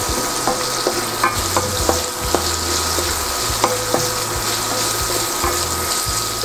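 Salted onions frying in a pan give a steady, loud sizzle throughout, with light stirring and scraping clicks scattered over it and no voices.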